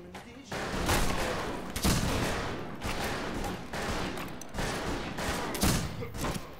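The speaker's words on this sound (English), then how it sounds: "They were shooting at me the whole time, I think." Gunfire in the Western shooter game Fistful of Frags, a dense run of loud, rapid shots with brief pauses between bursts, close and continuous.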